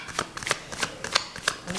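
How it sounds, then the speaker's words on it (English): A deck of tarot cards is shuffled by hand up close in quick, papery riffling bursts, about seven crisp flutters in rapid succession with no talking. "I'm sorry if I'm shuffling too loud or too long"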